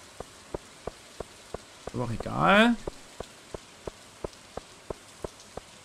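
Rain falls steadily in the farming video game Stardew Valley, a soft patter under regular ticking game sounds, with a brief rising chime partway through and a few words of speech.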